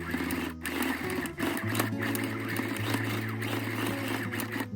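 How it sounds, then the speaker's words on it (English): A sewing machine runs steadily while stitching a bag strap for a foldover envelope bag, a continuous close mechanical whir with a droning motor tone and brief speed changes, no talk. "Sew the bottom edge and then top stitch 1 centimeter from the edge."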